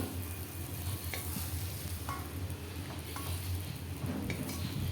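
Indian pennywort leaves fry and sizzle in hot oil in a pan, with a steady crackle and repeated soft scraping of a spatula as they are stirred; no voices.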